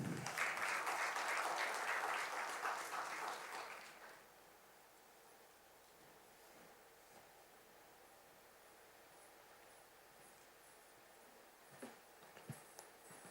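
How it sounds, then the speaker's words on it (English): Audience applause welcomes a speaker onto the stage at the inauguration of PACC 2025, a dense burst of clapping lasting about four seconds before fading into quiet room tone with a few faint knocks near the end. "With a big round of applause, I request Sir to please come on stage and address the gathering."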